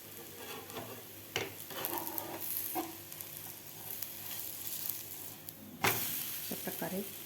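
A besan chilla on a hot pan, flipped partway through: a soft steady sizzle with scraping spatula strokes and a couple of sharp clunks from the flip, fairly quiet and close.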